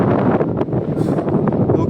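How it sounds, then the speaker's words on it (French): Strong wind buffets the microphone on a mountain ridge in the Vercors, a loud, continuous roar with gusting rumble throughout the short stretch. "Un vent de fou furieux."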